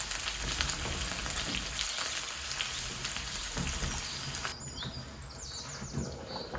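Garlic frying in a pan while making lentil soup gives a steady, dense sizzle that holds throughout, fairly close and continuous, with no talking.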